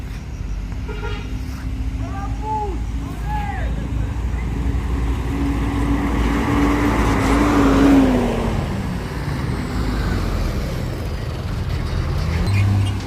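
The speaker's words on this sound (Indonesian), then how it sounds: "Bus, ada bus lagi." A bus rumbles past on a busy road, engine noise swelling and fading amid traffic, with a short horn toot and people talking nearby.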